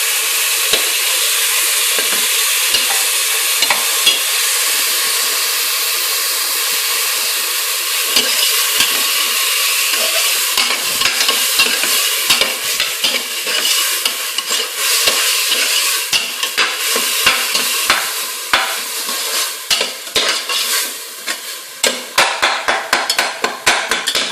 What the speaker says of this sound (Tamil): இடித்து வச்சுருக்க வெங்காயம் அதையும் போட்டு நல்லா கொஞ்சம் சிம்மில் வச்சுக்கோங்க